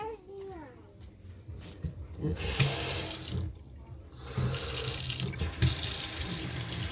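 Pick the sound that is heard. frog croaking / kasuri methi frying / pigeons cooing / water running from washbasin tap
water running from washbasin tap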